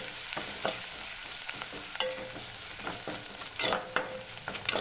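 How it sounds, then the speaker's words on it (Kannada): A chicken fry mixture with coriander leaves and salt being stirred in a hot pan, sharp scraping strokes of a spoon repeating at an uneven pace over a soft, continuous sizzle, close up with no talking. "ಇವಾಗ ಚೆನ್ನಾಗಿ ಕೂಡ ಮಿಕ್ಸ್ ಮಾಡ್ಕೋತಾ ಇದ್ದೀನಿ"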